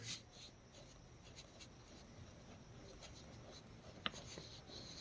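A pen scratches steadily across paper while someone writes out a right triangle solution by hand, a faint, continuous scribbling close to the microphone with a couple of light taps.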